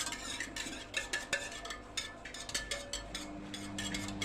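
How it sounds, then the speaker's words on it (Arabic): Homemade liquid soap is stirred in a container, a utensil knocking and swishing in a steady rhythm of soft clinks, close and fairly quiet with no talking. "وابتدي بقى ايه اقلب فيه"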